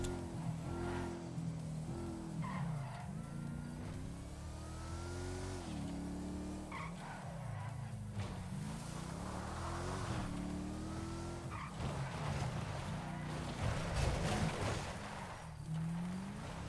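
Dodge Hellcat skidding in a roleplay driving game, with continuous engine roar and wavering tire squeal over several passes, loud and steady throughout with no talk.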